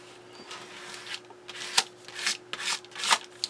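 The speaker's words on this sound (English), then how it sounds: "Take our trusty scraper, gift card" A gift card used as a scraper is dragged across glued book pages, making a series of dry rasping swipes, close and fairly quiet, over a faint steady hum.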